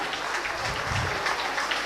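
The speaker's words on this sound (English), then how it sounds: "Parents, please keep on clapping." Parents applaud at a school annual function prize announcement, a steady wash of clapping from a crowd at moderate loudness, continuous across the moment with no clear voices on top.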